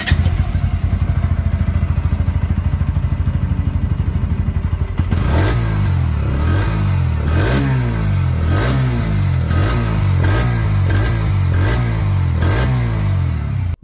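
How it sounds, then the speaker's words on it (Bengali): A 2025 Bajaj Pulsar NS 125 motorcycle with an underbelly exhaust idles steadily at close range, then gets a string of sharp throttle blips that rise and fall again and again, each rev loud and alone. "চলুন সবার আগে এর এক্সস্ট সাউন্ডকে একবার শুনে নেওয়া যাক।"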